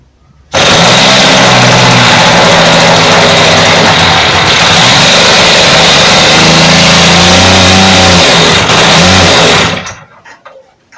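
RC model glow engine running at high speed, a loud, steady, buzzing whine that wavers as the throttle shifts by itself, close by, starting abruptly and cutting off near the end.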